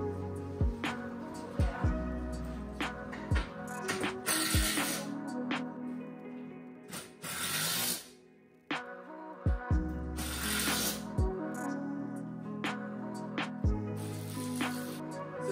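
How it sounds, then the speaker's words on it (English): Screws are driven into Colorbond steel cladding flashing, with repeated short bursts of a power driver and sharp metallic clanks and rattles on a building site, close and fairly loud. "And we'll put a couple more screws in."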